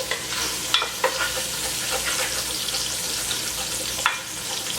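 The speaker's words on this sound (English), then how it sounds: "I'm also scraping the bottom to get any of the brown bits up that the meat left down there" Onions sizzle steadily in oil while a utensil scrapes the bottom of the pan to lift browned bits left by short ribs, with a few sharper scrape clicks over the constant frying hiss.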